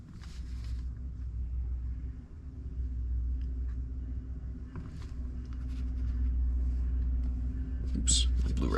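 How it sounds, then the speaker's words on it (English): A passing train gives a steady low rumble, heard from indoors and swelling slightly toward the end, under faint whispered talk and a few small handling sounds. "Sorry for the train. Another train!"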